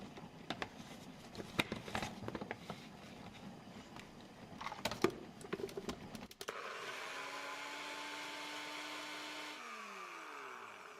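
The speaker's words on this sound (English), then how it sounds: "I'm just gonna blend this and we're gonna pour it into our blend" A kitchen blender whirs loud and steady as it purées dried chiles for beef birria, starting abruptly after a stretch of clattering and handling noise, then winding down in pitch near the end.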